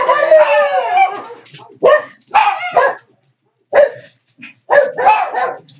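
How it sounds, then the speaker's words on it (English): Dogs bark outdoors in short, loud bursts with yips and whimpers, close by, mixed with a woman's speech between the barks. "Sorry, my dogs are barking."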